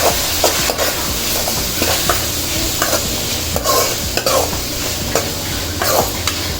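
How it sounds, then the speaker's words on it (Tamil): Tomatoes and turmeric powder being stirred in a frying pan, with a spatula scraping and tapping at irregular intervals over a continuous close, loud sizzle. "போட்டு இப்போ நல்லா அதை கிளறி விட்டுருவோம்"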